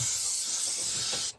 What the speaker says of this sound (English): I have a panel removed and I'm going to spray from inside